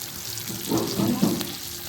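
Mandeli fish frying in a pan gives a soft, steady sizzle that stays fairly quiet throughout, with a low voice murmuring briefly partway through.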